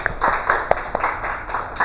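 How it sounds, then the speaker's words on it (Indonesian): A classroom group claps in a quick, rhythmic pattern of sharp hand claps, close and moderately loud, repeating several times over a couple of seconds. "Tepuk tangan buat kita semua."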